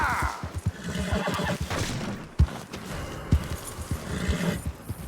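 A horse neighs and whinnies in Red Dead Redemption 2 after failing to jump a fence, with hoof thuds and clatter around it, fairly loud and close, with no talk over it.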